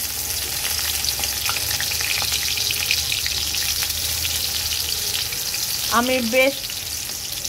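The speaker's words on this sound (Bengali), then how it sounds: "দিয়ে দেব তেলের মধ্যে দুটো শুকনো মরিচ, দিয়ে দেব রসুন কুচি আর পেঁয়াজ কুচি" Two dried chilies with chopped garlic and onion frying in oil, giving a loud, steady crackling sizzle throughout. A short spoken phrase comes near the end.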